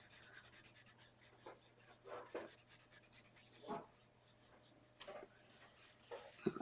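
Pencil drawing freehand on paper, close and faint, with soft scratchy strokes and rubbing in irregular bursts separated by short pauses under a quiet background hum.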